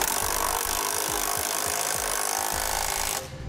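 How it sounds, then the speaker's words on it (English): Rapid, steady ratcheting of a power tool driving trailer hitch bolts with a 19 mm socket on a 2018 Toyota Highlander, loud and close with a repeating mechanical pulse that cuts off abruptly near the end. "Now tighten on your bolts with a 19 millimeter socket."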